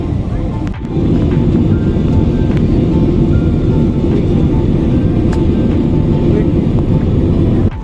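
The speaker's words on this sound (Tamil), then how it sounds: "ஃப்ளைட்டு மேகத்துக்குள்ளே போகிறனால பயங்கரமாக ஷேக் ஆகிட்டே போயிட்டு இருந்தது" Steady, loud roar inside an airplane cabin on a flight from Singapore to Chennai as it passes through clouds, a dense low rumble filling the whole stretch after a brief dip near the start.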